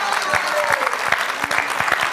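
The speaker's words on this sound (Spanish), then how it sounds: "vamos a aprovechar este momento para mandar un saludo y un aplauso a todos los peruanos que nos ven" Studio audience applause rings out on a television talk show, a steady patter of many hands clapping close by for about two seconds with no break.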